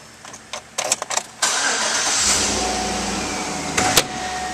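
A 2012 Chevrolet Suburban LTZ starts up: a few close clicks and clunks, then the engine catches with a loud crank and settles into a steady idle, with a brief rev near the end.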